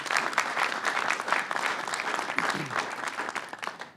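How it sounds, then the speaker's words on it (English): Audience applause at a press event with Governor Cuomo, a steady dense clapping from a crowd filling the room, sustained throughout with no speech over it. "Let's give Mayor Spitzer a round of applause."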